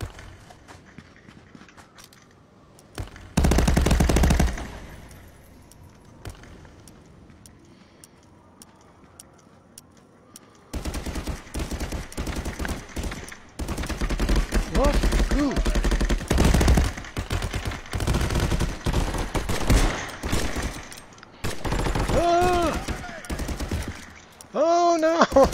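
Gunfire in the VR shooter Contractors: a brief loud burst, a quieter lull, then sustained rapid automatic fire with overlapping shots for the rest of the stretch, with a voice shouting briefly near the end.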